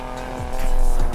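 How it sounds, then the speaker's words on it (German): Racing car engine in the Need for Speed Payback video game roars loudly through a tunnel, with a rising, echoing growl, shifting pitch sweeps and a hint of tire squeal, close and intense throughout. "Ich liebe das Dröhnen der Motoren in einem Tunnel."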